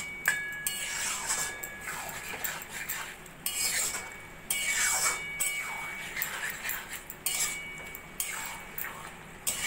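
A spoon scraping and clinking in a pan of red amaranth greens cooked with taro stems and shrimp and a little sugar, steady close stirring with metallic taps and scrapes, no talk.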